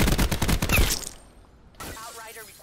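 Rapid automatic gunfire in the Call of Duty Black Ops 4 video game crackles in a close, loud burst for about a second, then stops, leaving quieter game ambience behind.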